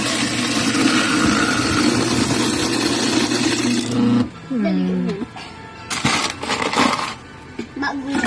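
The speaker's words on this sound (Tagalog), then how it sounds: "Sa isang yellow, testing yung ice crusher." An ice crusher being tested runs with a loud grinding, clattering whir for about four seconds, then stops; intermittent rattling bursts and voices follow.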